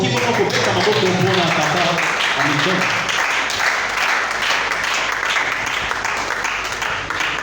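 A church congregation in Brazzaville applauding during a service, dense sustained clapping from many people filling the room, with voices cheering under it throughout.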